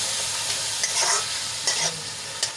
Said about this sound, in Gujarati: ડુંગળીને આપણે સરસ રીતે સાંકળી લઈશું, ગુલાબી રંગની થાય ત્યાં સુધી આપણે એને સાંકળી લેવાની છે.